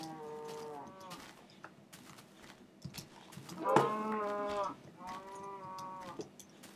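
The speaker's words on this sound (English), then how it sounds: "there's some cows with shrooms on them" Mooshroom cows in the Minecraft video game moo several times in drawn-out, tonal calls, one louder moo in the middle, against a quiet background without speech.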